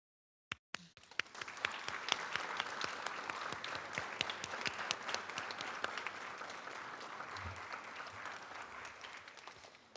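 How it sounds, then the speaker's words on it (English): A large audience at a township board of supervisors meeting breaks into sustained applause for the staff, with a few sharp claps at the start swelling into a dense, steady wash of clapping that holds to the end. "I hope that you will all help me to applaud this staff, the people that helped make this all possible."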